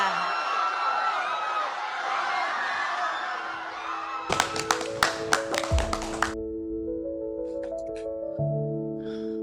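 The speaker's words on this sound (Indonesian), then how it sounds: "Berikan tepuk tangan yang meriah" After a stage performance at a cultural show, an audience breaks into applause and cheering, then a run of sharp claps or taps with a sustained tonal hum and ringing notes follows.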